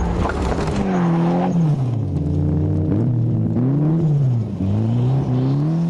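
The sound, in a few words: Mitsubishi Lancer GSR turbo car driven hard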